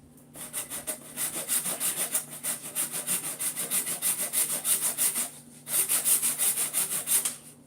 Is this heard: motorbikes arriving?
no